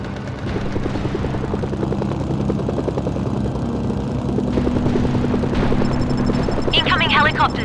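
Attack helicopters in the video game Mercenaries: Playground of Destruction thump with a loud, rapid rotor chop over engine drone, steady and close throughout, with voices speaking over them and a brief high electronic chirp near the end.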